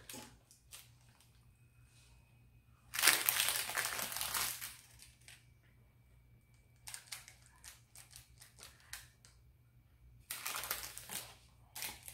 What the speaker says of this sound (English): I'm going to slice down the middle.